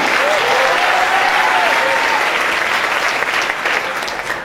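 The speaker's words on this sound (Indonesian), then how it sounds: "tepuk tangan dulu untuk abang saya" Steady, dense audience clapping at a business presentation in a hall, loud and sustained throughout, easing slightly toward the end.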